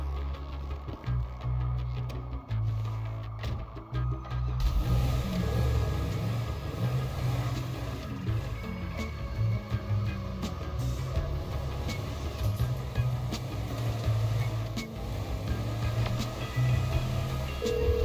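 A car driving in Grand Theft Auto V, a steady low engine rumble with road noise that carries on without a break, a brief rev partway in, and no voices over it.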